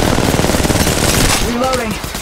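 Rapid automatic gunfire in the Apex Legends Mobile battle royale game, a dense sustained burst of shots that thins out toward the end, with other game sounds layered in and no one talking.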